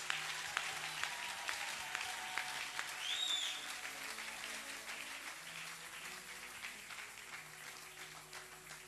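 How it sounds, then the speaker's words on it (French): A church congregation at a French-language evangelical service applauds, a sustained spread of clapping that is strongest at the start and gradually thins, with faint murmurs beneath. "Applaudissez l'Éternel des armées."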